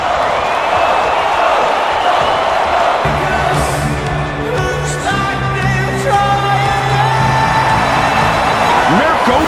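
Dense crowd noise with cheering and scattered whoops from a large arena audience in the video game UFC Undisputed 3 as a fighter enters the octagon, loud and steady throughout, with tonal music-like layers underneath.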